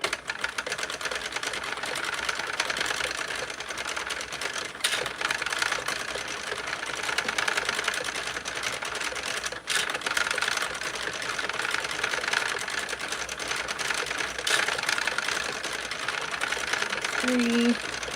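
Hand-cranked Sentro 48-pin circular knitting machine knitting a slouch hat, a steady dense mechanical whirring and clattering that runs throughout at an even rhythm, with brief voice near the end.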